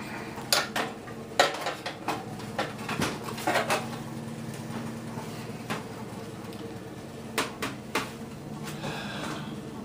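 Screws being taken out of a 1945-1947 Minerva Tropic Master WWII-era radio cabinet: irregular small metallic clicks, taps and rattles of a screwdriver and loose screws, close and intermittent over a quiet background.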